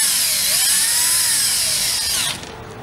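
A power tool tightens grille bar bolts on a Chevrolet Silverado grille, a loud, close, high whirring drone that runs steadily and cuts off near the end, with no voices.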